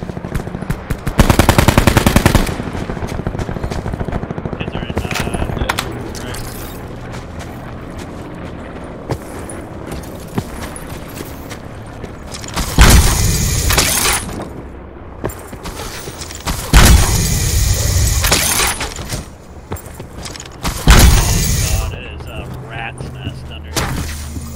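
Bursts of automatic sentry gun fire in Call of Duty Black Ops, loud rattling volleys in several separate bursts with booms between them, while players talk over the game.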